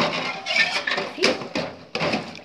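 Dishes and glasses clink and scrape in a basin of water while being washed by hand, with short irregular rubbing bursts, close and moderately quiet, broken by brief pauses.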